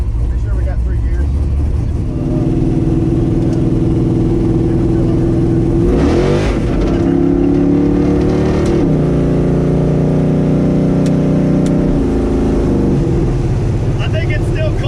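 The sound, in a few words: Barracuda drag car engine warming up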